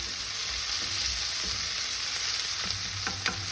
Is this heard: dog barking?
no